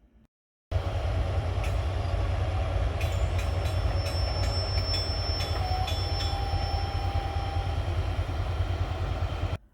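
CN freight train A48871 rolling slowly to a halt at Belt Junction in Mobile, Alabama: a loud, steady rumble of railcars with clanking, then a faint high wheel squeal near the end.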